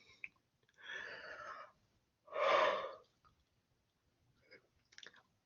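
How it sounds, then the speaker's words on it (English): A math instructor's long, breathy yawn in a quiet classroom, drawn out in two swelling exhalations with faint clicks and breaths afterward, no talking. "Sorry for yawning."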